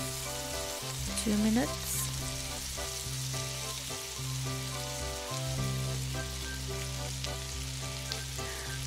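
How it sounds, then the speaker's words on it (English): Shrimps stir-frying in a pan for Quang Nam noodles give a steady, quiet sizzle and crackle that runs throughout, with a few clinks of stirring and a brief spoken remark. "and then stir fry the shrimps for about"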